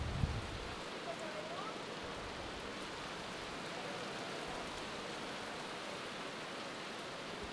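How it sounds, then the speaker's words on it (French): Steady rain pours down over an outdoor beach volleyball match in Caen, a dense, even hiss of drops filling the whole stretch at moderate, unbroken level. "mais on entend beaucoup la pluie dans cette fin de rencontre"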